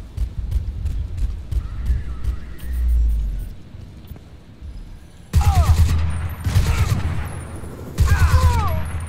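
Sustained bursts of automatic gunfire in the video game Crysis 2, loud rapid volleys in several separate bursts over a low engine-like rumble, with brief speech mixed in.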